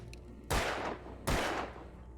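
Two loud gunshots fired at cans in Alan Wake Remastered, about a second apart, each a sharp booming blast with a short decay.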